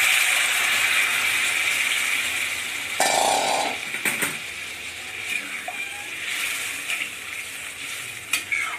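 Hot water is poured into a pan of frying katla fish curry, giving a sudden burst of bubbling hiss over a steady sizzle, followed by clattering stirs and a few sharp knocks.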